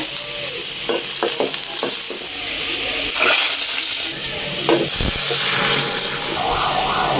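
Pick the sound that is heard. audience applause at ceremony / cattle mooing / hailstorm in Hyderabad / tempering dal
tempering dal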